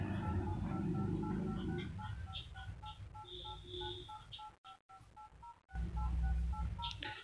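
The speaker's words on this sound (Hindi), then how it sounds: "यहाँ पर नंबर डायल करता हूँ तो हमारे डायलिंग कीपैड टोन्स आती है।" Keypad tones on a Samsung Galaxy phone as a number is dialed, a steady series of short, evenly spaced beeps over a continuous low hum, fairly faint and without speech.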